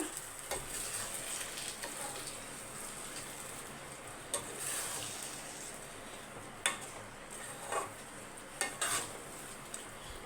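Rice being stirred in a pot just after ghee is poured in, with a soft steady sizzle beneath scattered scraping strokes and a few sharp knocks of the spoon against the pot, close and fairly quiet.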